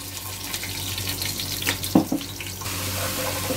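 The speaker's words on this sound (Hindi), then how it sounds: "थोड़ा सा इसमें पानी डाल लेंगे ताकि ये इधर ही इसका कलर आ जाए" Water is poured into a pan of golden fried onions with ginger-garlic paste, cooking for chana pulao. It gives a steady running splash over the sizzle, with a brief louder burst partway through.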